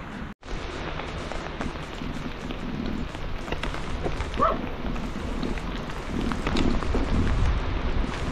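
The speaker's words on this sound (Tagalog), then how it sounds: "inabot na tayo ng ulan" Rain falling steadily on surfaces during a bike ride, a continuous close patter with a low rumble beneath, briefly cut near the start.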